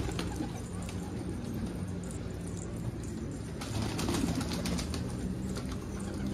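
Pigeons kept at a window ledge coo softly and flap their wings in short bursts, set against a steady background hum.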